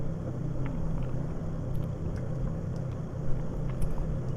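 A light aircraft taxis in a flight simulator, its engine a steady, low droning rumble with a faint whine on top, constant and moderately loud with no voices.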